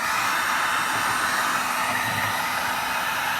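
A heat gun blowing hot air onto a golf shaft adapter to break down the epoxy, a steady loud broadband whoosh with no talking.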